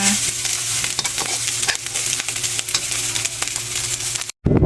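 Onion rice is stir-fried in a pan, with a steady close sizzle punctuated by frequent scraping and clattering strokes of a utensil, briefly cutting out near the end before resuming.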